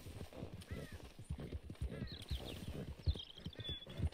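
Horse hooves clip-clop at a walk in the Red Dead Redemption 2 video game on PS5, a steady rhythm of soft thuds under someone talking, with faint whinnies and game sounds around them.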